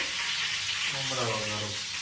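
Puffed rice tempering in a hot pan gives a steady, fairly loud sizzle with faint stirring, while a voice speaks briefly underneath.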